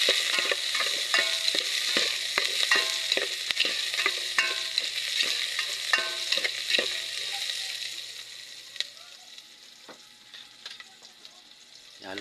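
Ingredients sauté in a pan with a steady bright sizzle while a utensil stirs in quick rhythmic scrapes and taps, the strokes thinning out toward the end.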